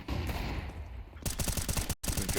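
In Counter-Strike on the Inferno map, quick pistol shots follow a muffled stretch, loud and close in a fast irregular rhythm with a short break between them.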